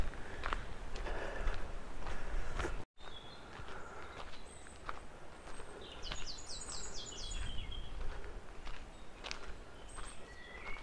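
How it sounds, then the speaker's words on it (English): Birds singing outdoors in the grounds of Belvedere House, faint and distant chirps and short trills scattered over low rustling and footstep-like noise. "The birds here are, as I just said, they're incredible. They're singing all the time."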